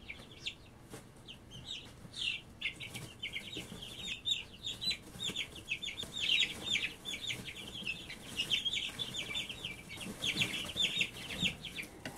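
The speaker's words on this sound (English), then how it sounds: "I'm going to get the chicks now and put them in their new brooder." Dozens of baby chicks peep in shrill, rapid overlapping cheeps while being moved into a new brooder, with soft rustling and handling noise underneath; no one talks.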